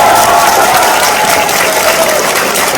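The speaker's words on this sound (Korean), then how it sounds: "박수 한번 더 부탁드립니다" An audience at a Democratic Party town hall meeting in Busan claps loudly and continuously in a dense, steady wave of applause, with no clear speech over it.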